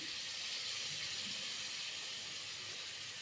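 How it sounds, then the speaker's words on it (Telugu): Tomato paste sizzles steadily in a hot pan for a paneer curry, a continuous bright frying hiss holding at an even level throughout with no voices over it. "ముందుగా పేస్ట్ చేసి పెట్టుకున్న టమోటా పేస్ట్ని అయితే వేసుకోవాలి"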